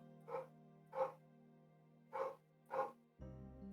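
A dog barks downstairs in four separate muffled woofs, two close together, a pause, then two more, heard from another room at modest volume over a steady low hum.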